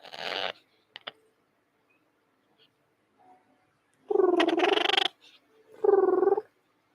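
An Amazon parrot imitates a cat's purr, producing two loud, close, raspy purring bursts about a second each after a brief rough sound at the start and a few small clicks, with quiet gaps between.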